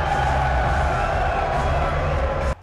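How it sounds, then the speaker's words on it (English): Crowd at a UFC weigh-in cheering for Conor McGregor, a dense steady roar of many voices filling the space throughout, loud and continuous before cutting off near the end. "the crowd went crazy for Conor McGregor"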